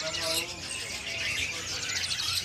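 Young fledgling birds chirping and tweeting at Pramuka bird market in Jakarta, a dense, continuous chorus of high calls close by, with people talking underneath.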